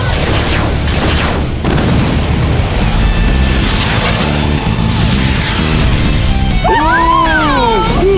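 A cartoon rocket punch is launched and strikes with a loud booming crash, followed by rumbling debris and clatter, with a whistling sweep and sound effects near the end.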